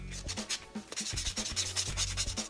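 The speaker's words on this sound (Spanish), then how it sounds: "Y nada más con una esponjita como esta, empieza nada más a lijar." A sponge buffer rubbed briskly over acrylic nails, producing close, quiet rhythmic scratchy strokes that repeat about every half second, with no voices.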